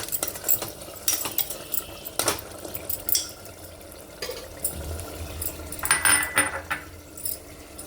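A spoon stirs mutton mango curry in a metal pot, producing intermittent scraping and clinking against the sides with soft wet sloshing in between, close and moderately loud with no talking.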